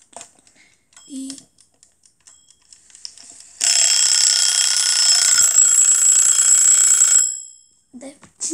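An electronic timer alarm rings loudly and continuously for several seconds, a shrill high beeping that stops abruptly, with faint scattered sounds before and after.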